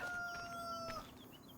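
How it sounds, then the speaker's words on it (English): Chickens in Farming Simulator 25 give a short, faint crow-like cluck, a single brief call at low volume over a quiet background. "try and avoid all of the chickens"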